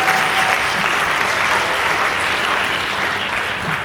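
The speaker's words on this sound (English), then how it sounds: "give yourselves a good round of applause for getting here" Wedding guests clap together in a loud, sustained round of applause that carries evenly from start to finish.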